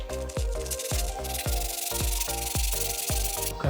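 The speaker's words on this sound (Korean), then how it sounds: "사포로 표면을 부드럽게 갈아주는 겁니다" Repeated rhythmic strokes of sandpaper smoothing a brake pad surface, about two per second, scratchy and close, with no talking.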